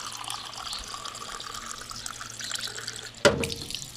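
Drinking water pours in a steady, close trickle and splashes, ending with a sudden sharp spill near the end.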